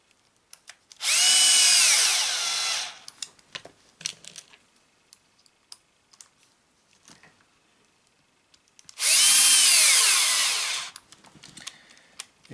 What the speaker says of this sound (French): on va visser donc ces rotules là dans le train.